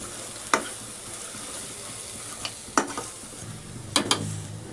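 Pav bhaji masala and Kashmiri red chilli powder sauté in a pan under a constant sizzle, with three or four distinct spatula scrapes spaced across it and no voices.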